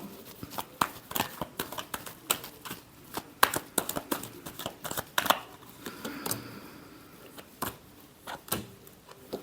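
Tarot cards being shuffled by hand, a run of quick papery flicks and riffles at close range, uneven in rhythm with short pauses between bursts.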